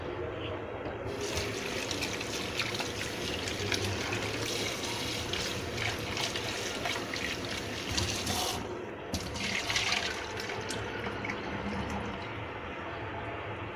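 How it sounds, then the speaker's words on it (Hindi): Water drains off a pot of boiled chicken liver, splashing steadily into a sink for several seconds. The flow is continuous and moderately close, and it swells partway through. "ये देखिए मैं पानी फेंक रही हूँ।"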